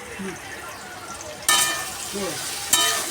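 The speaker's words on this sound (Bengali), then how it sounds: "একটু ভালো করে কষিয়ে নিই" Chili and cumin powder are sautéed in a pan on a gas stove. A low sizzle with a faint voice swells into two sudden louder bursts of frying as the spices are stirred.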